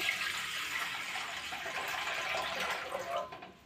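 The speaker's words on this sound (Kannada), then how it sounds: "ಒಂದು ಚೆರಿಗೆ ಅಷ್ಟು ನೀರು ಹಾಕಾಕತ್ತಾನೆ ನೋಡ್ರಿ" Water is poured steadily into a large container while preparing masala sandige papad from rava and sabudana, a continuous close splashing rush that lasts throughout and fades slightly at the end.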